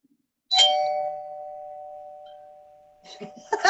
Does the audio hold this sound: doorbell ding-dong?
yes